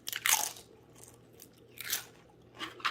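Homemade potato-less potato chips crunch as they are bitten and chewed up close: a loud crisp crunch, then two more bursts of crunching spaced out with quiet chewing between, no voices.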